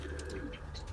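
A German racing pigeon coos softly in its loft, giving a brief, faint, low burble against quiet background noise.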